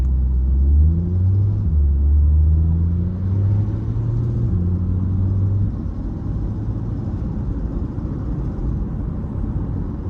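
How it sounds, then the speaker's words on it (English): Low, uneven drone of a 2026 Chevy Corvette Stingray 2LT engine running in 4-cylinder mode, heard from inside the cabin as a loud, continuous rumble with wavering low tones that thin out toward the end. "in this 4-cylinder mode, you get a weird sound like you do in the Camaros."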